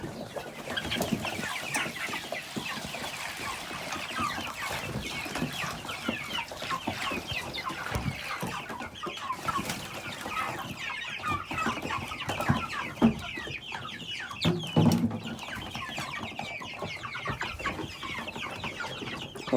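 Chickens cluck and chatter continuously inside a shed, a mix of hens and a cockerel including white crossbreeds, with busy overlapping clucks and rustling throughout and a louder burst of calls partway through.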